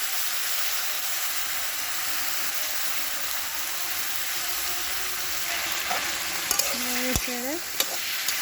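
Rohu fish head frying in mustard oil in a wok gives a steady, close sizzle throughout, with a few sharp metallic clinks of stirring near the end.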